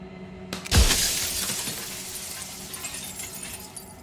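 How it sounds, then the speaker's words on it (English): Mirror cracking and shattering in the video game Slay the Princess, a single loud burst of breaking glass followed by a long tinkling, ringing decay that fades out, with no talk over it. "A crack slides down the center of the mirror, splitting the image in the glass in two."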